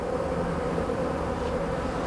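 Honey bees hum steadily and close during a hive inspection, a dense continuous drone with no voices over it.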